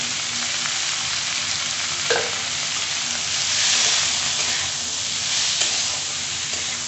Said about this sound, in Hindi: अब ये फ्राई हो जाएगा